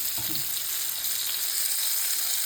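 Steady, close sizzling of food frying in a hot pan, continuous and fairly loud with no voices.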